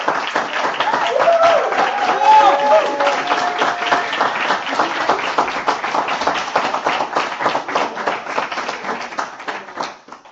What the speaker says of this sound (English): We owe you a big round of applause.